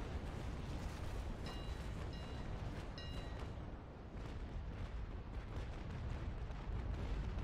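Continuous heavy booming barrage of cannon broadside fire in a naval battle video game, with dense overlapping blasts and rumbling filling the whole span at high loudness, no talk.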